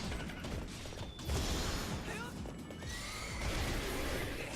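A horse whinnies loudly in the video game Hyrule Warriors Definitive Edition, rising and falling over noisy battle clatter and clashing effects, with the calls standing out near the middle of the stretch.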